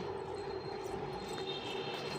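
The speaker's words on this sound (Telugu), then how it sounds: "మన ట్రైన్ వచ్చేసి" A train rumbles steadily past, a continuous loud roar of wheels and carriages with a faint metallic squeal, no voices.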